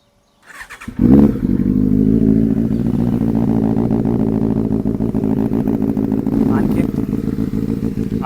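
A Benelli 600i motorcycle engine fires up from cold and settles into a loud, steady, throbbing idle close by, while a person talks briefly over it.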